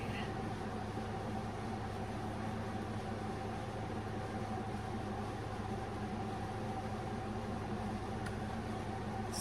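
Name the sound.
air conditioner running in the background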